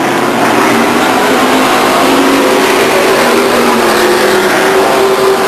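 Race cars roaring around Stockton 99 Speedway in 2000: a loud, steady, close engine drone holds throughout with shifting pitch as the cars run hard, and no voices.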